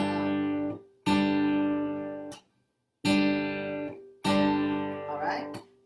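Plucked guitar chords ring out and are choked by muted strings in a steady groove, four bright strums with short percussive damped hits between, close and clear.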